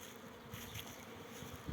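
Honeybees buzz steadily around hives at an apiary during their orientation flights, a soft droning hum filling the air with no voices.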